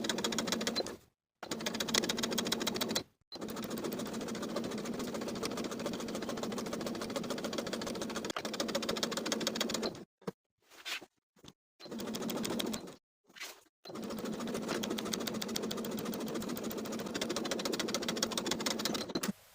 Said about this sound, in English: Now we can top stitch the zipper in place as pinned, edge stitching close to the folded edges.